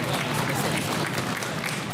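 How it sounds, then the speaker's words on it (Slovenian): Studio audience applauding both teams at a Slovenian school quiz show, a steady wash of clapping that stays even and full for the whole moment. "Aplavz za obe ekipi."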